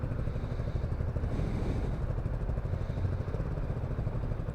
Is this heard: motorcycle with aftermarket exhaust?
yes